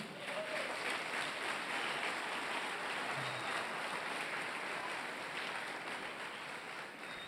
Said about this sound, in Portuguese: Dá um aplauso para o Senhor Jesus